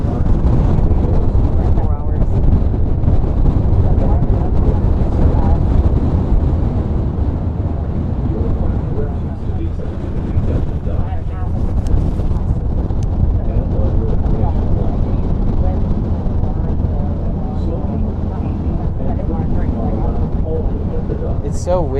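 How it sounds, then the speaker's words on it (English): Strong wind at Pier 39 in San Francisco roars continuously into the microphone for the whole stretch, a loud, unbroken buffeting rumble that buries any faint background sounds. "Because I bet you can hear the wind, huh?"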